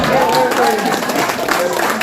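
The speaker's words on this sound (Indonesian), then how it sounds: "Tepuk tangan yang meriah." Brief burst of audience clapping at a church seminar, steady and lively, with voices and a tonal vocal sound overlapping the applause.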